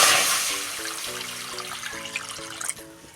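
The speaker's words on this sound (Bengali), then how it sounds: "দিয়ে দিচ্ছি জল।" Water poured into a pan holding chana dal, a continuous splashing trickle that starts strongest and gradually eases, with a few tonal ringing notes and faint clatter in the background.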